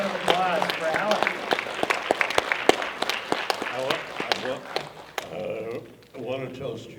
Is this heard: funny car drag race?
no